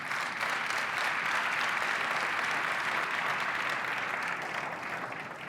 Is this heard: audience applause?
yes